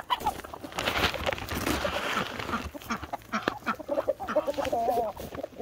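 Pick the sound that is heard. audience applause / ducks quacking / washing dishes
ducks quacking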